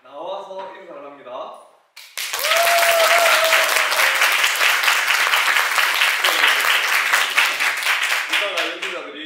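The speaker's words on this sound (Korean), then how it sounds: "박수 연습 한번 하겠습니다" A concert audience at an award winners' recital practices applause on cue, a loud, dense, sustained burst of clapping lasting several seconds, with a speaker's voice before it starts and again as it fades.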